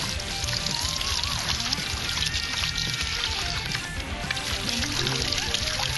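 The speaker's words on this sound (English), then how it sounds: "We use the high water pressure method." High-pressure water jet blasting into a whitetail deer skull to flush out the brain over a bucket, a steady loud hissing spray with splashing and sloshing throughout, no talk.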